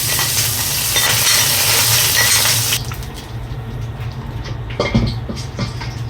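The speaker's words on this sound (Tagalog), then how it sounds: "nag-isa lang tayo dito ng bawang mga sis." Garlic sizzling loudly in a hot pan with steady crackling frying noise, which then drops to a quieter sizzle broken by stirring clinks of a utensil.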